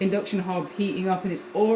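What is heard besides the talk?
No distinct noise like a dog, phone or traffic.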